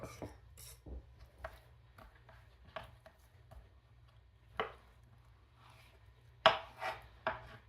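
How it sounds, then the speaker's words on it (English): A knife cuts through wild turkey breast on a board in a few scattered soft strokes, with sharper taps near the end, close by in a quiet room. "have some wild turkey breast. Just going to slice it up a little bit."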